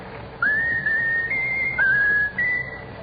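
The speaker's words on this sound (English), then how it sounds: "Now whistle my country 'tis of thee, Raffles." A person whistles the patriotic tune My Country 'Tis of Thee, a clear melodic line of sustained, sliding notes in several phrases with short breaks, close and alone against a faint background hiss.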